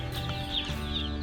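Meat chicks in a shipping box keep up a continuous chorus of high, overlapping peeps, close and steady through the brief moment.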